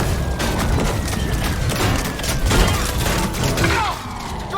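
Loud, dense gunfire and explosive booms from the Lego Marvel 2 video game, a continuous barrage of blasts and crashes with heavy low rumble throughout, no pause.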